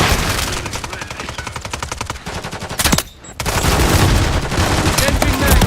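Rapid automatic gunfire in the Wuthering Waves game, loud sustained bursts of rattling shots that cut out briefly mid-way, then resume as a steady heavy barrage.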